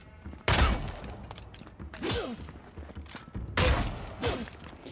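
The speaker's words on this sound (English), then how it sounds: "I'll just shoot him from over here." Video game gunfire while shooting an enemy, two heavy bursts of shots with crashing impacts about three seconds apart, separated by quieter mechanical clanks and whooshing effects.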